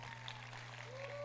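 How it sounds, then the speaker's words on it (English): Applause from a seated audience at a youth cultural ambassador pageant, a steady broadband patter of many hands held evenly throughout, with a low hum beneath and a faint voice or tone near the end. "they need one more big round of applause"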